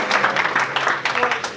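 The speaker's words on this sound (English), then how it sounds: "So, big round of applause." A college night audience gives a round of applause for an introduced guest: dense, steady clapping from a crowd filling the whole short stretch.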